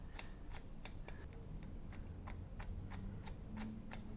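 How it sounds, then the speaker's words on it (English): Scissors snip hair over a comb, a series of about a dozen quiet, crisp metallic clicks in a steady rhythm against a low hum, close up with no talking. "continue this scissor over comb technique"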